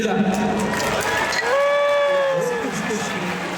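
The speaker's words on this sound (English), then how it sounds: "big cheers" Crowd at a sumo tournament in Japan cheering for wrestler Ura, a broad roar of voices rising in a swell, with people talking nearby over it.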